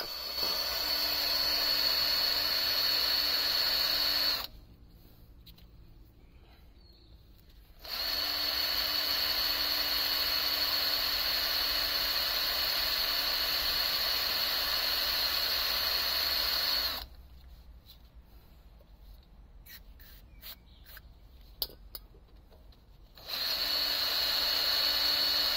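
Electric drill boring out a broken car wheel stud, a loud steady high-pitched whine running in three long bursts separated by quieter pauses with faint clicks.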